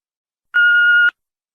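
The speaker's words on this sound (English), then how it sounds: "If you would like to leave a message, please do so after the tone." A single steady electronic beep from an answering machine, about half a second long, sounding alone with clean silence before and after.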